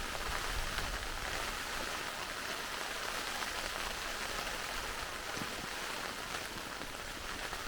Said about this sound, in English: Rain's really setting now.